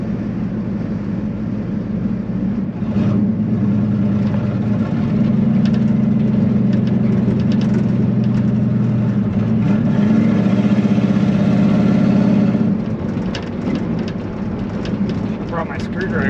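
A turbocharged small-block Chevy engine idles nearby, a loud, steady low rumble that swells slightly midway, with people talking over it.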